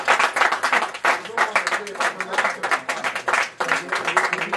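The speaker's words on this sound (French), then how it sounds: "Applaudissez quand même." Audience applause at a football club's sponsorship presentation, dense clapping from a crowd filling the whole stretch, with voices talking over it.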